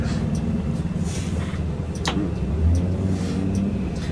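A tour vehicle rolling through New York City traffic, a steady low engine and road rumble with a sharp brief click or squeak partway through, continuous street noise with no voices.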